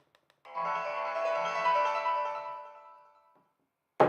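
A phone rings with a sustained electronic melodic tone, swelling in and holding for about three seconds before fading out, clear and nearby with no speech over it.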